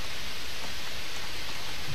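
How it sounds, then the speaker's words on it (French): Rain falls steadily in the video game Project Zomboid, a constant, even hiss of dense drops with no breaks and no voices. "De toute façon, il pleut"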